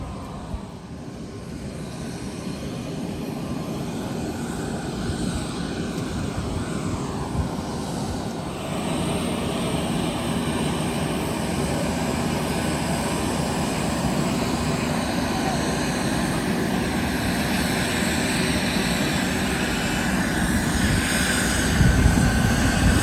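Steady broadband jet engine roar of a QantasLink airliner heard from the cabin during boarding on a Busselton to Perth flight, continuous and fairly loud throughout with no talk.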